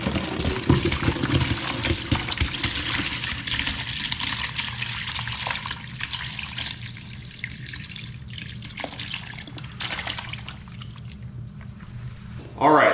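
Fermented pepper brine poured through a strainer into a bowl, a steady close trickle of liquid running for several seconds, with talk present over the pouring.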